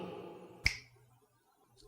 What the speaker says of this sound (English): So I'm just going to snap my fingers and say the command.